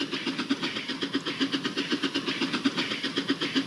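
A model train set runs along its rails with a steady, rhythmic clickety-clack of wheels over track joints, close and continuous with no talk.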